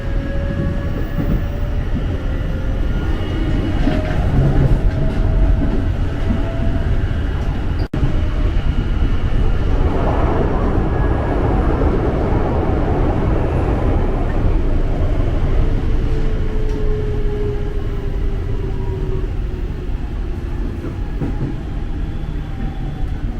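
A KRL commuter train pulls out of platform 6 at Bekasi station, heard from inside as a steady, loud rumble and rolling rail noise that builds gradually, with a single sharp click partway through.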